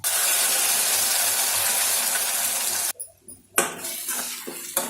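Ground masala paste sautéing in a pan for pepper kulambu gives a steady, close sizzle for about three seconds, then cuts out briefly before softer bursts of frying and clinks of a utensil against the pan.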